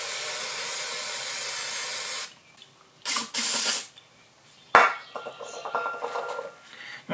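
Carburetor cleaner sprays in hissing bursts to rinse a carburetor part from a 1991 Yamaha G8 gas golf cart: a long steady spray, then two short sharp blasts and a brief final spurt, close and loud with some faint handling noise between.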